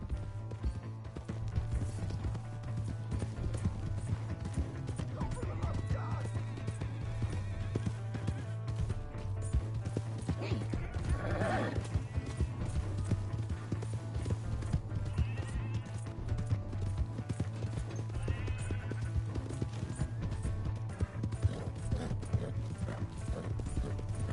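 Horse hooves clip-clop and a horse whinnies in the Red Dead Redemption video game, set over a steady low music bed and continuous game ambience.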